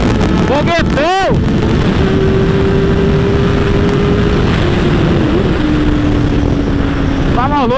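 A Honda CBR motorcycle engine roars steadily while riding, with a sustained droning tone and wind rush, interrupted by a couple of loud revving bursts.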